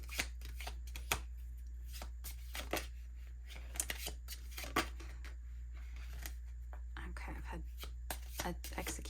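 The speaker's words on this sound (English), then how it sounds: "Shuffle a little more and then just take the first." Tarot cards being shuffled by hand, a run of soft irregular riffling and snapping clicks over a steady low hum, close and quiet, with no talk.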